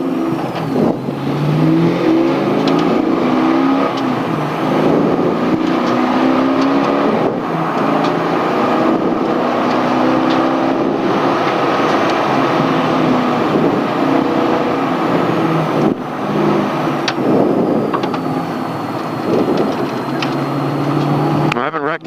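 A throaty car engine roars continuously at high revs, loud and close, with people talking over it throughout.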